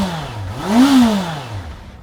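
Honda CBR 650F motorcycle engine revved once, pitch sweeping up to a peak and falling back, a short close blip over a muted idle.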